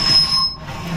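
A sliding roof panel on threaded rods at a pond shack squeaks with a high, thin squeal that fades midway and then resumes, close and fairly loud.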